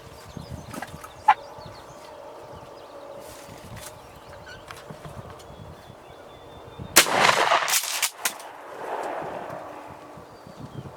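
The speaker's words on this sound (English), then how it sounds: "you're gonna have to shoot him pretty quick here" A single loud gunshot is fired at a turkey during a hunt outdoors, a sharp blast with a short ringing decay, after a stretch of quiet ambient outdoor sound with faint small noises.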